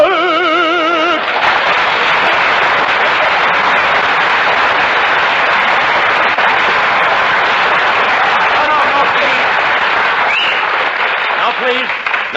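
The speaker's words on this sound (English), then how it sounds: "No applause, no applause." A studio audience at a 1947 radio comedy show breaks into loud, sustained applause right after music ends, the clapping holding steady for several seconds before tapering off under a voice.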